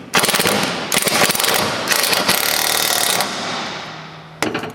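Impact wrench tightening an Allen head bolt on oval truck steps of a 2015 GMC Canyon, loud close rattling hammer bursts that run almost continuously, pause briefly, then return for a final short burst.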